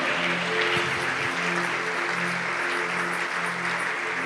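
A church congregation claps and cheers together at a French-language evangelical service, a dense, loud, sustained wash of applause with a low hum of sustained tones beneath and no clear speech.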